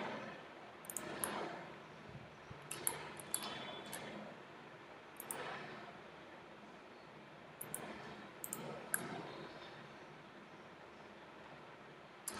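Computer mouse clicks during 3D modeling work, with scattered single and double clicks spaced irregularly, close but faint over a soft hiss.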